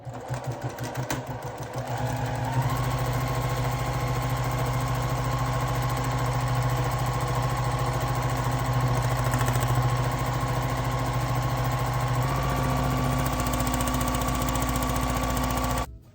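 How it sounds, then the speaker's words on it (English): A home sewing machine running steadily during free motion quilting, with a continuous loud motor hum and rapid stitching after a brief start-up. "And now I can start free motion quilting."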